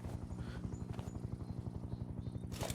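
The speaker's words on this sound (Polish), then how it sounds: "Czy słyszę helikopter?" Steady, rapid thumping of Mi-24 helicopter rotor blades in the video game Sniper Ghost Warrior 3, loud and continuous, with a low mechanical drone underneath.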